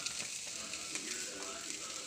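Fish frying in a pan gives off a steady, dense sizzle with faint crackles and stirring noises, continuous and close.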